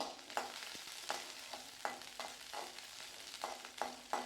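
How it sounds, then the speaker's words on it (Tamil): Shallots, ginger and garlic are sautéed in a pan for an egg curry, heard as quiet frying under a run of spatula scrapes and taps at an uneven pace. No one speaks. "நல்லா வதக்கலாங்க இஞ்சி பூண்டு கொஞ்சமாக சேர்த்திக்கிட்டு"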